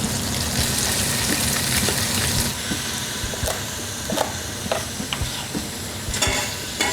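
Cream with a lobster head simmers and reduces in a pan, giving a steady close bubbling sizzle with occasional sharper pops and stirring clicks.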